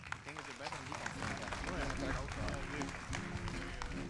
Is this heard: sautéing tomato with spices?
no